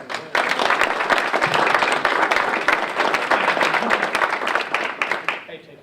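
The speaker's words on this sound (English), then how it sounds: "let's give a round of applause to the chamber and the hospital." Audience at a city council and mayoral primary debate applauds the chamber and the hospital, a burst of dense clapping that starts abruptly, holds steady, then thins toward the end.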